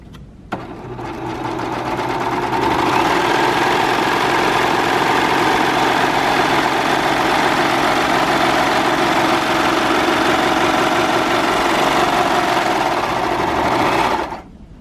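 A Baby Lock Victory serger runs fast and steadily, sewing a 4-thread overlock stitch as a continuous close mechanical whir for about thirteen seconds before stopping.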